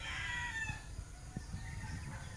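Rooster crowing over steady outdoor background noise on a lowland farm plot where mulberry cuttings are planted, the call moderately distant and partly masked.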